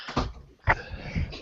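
A room door opening or closing during a podcast recording, heard as a couple of sharp clunks and latch clicks with faint shuffling between, close and moderately loud.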